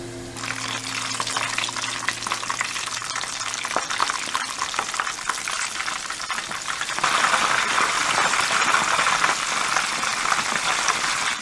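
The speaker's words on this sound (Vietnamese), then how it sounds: "Thử đũa, thấy dầu sôi rồi thì mình cho cà vào chiên với lửa vừa." Meat-stuffed eggplant frying in hot oil over medium heat, a steady dense crackling sizzle throughout that grows louder and brighter partway through, with no talking.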